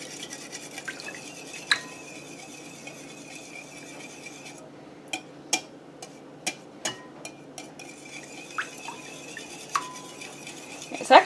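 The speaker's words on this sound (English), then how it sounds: "we're going to take our liquid ingredients and we're going to whisk" Liquid ingredients for carrot cake are whisked in a bowl with soft swishing, and sharp clicks of the whisk ring out against the side at irregular intervals, quiet and close.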